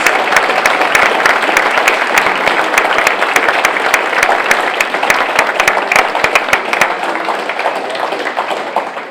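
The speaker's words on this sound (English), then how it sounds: "Let's give a round of applause to all our Final Four teams." Applause for Final Four teams at a school district board of trustees meeting, loud, continuous clapping from a room of people with distinct individual claps standing out, slowly thinning toward the end.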